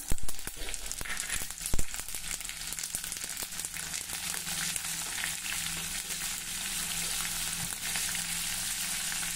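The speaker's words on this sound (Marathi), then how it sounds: "हे बघा फोडणी तयार आहे" Asafoetida, white sesame seeds and green chilli crackle in hot oil for a tempering, a dense, even sizzle with a few loud pops near the start that then settles into a softer, steady fry.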